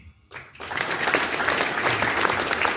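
An audience at a public gathering in Haldwani breaks into loud, dense clapping that begins suddenly and continues steadily from close by.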